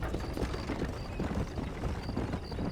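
Horse hooves clip-clop at a steady trot in Red Dead Redemption, a rhythmic run of fairly quiet, close hoofbeats with faint tack and movement noise.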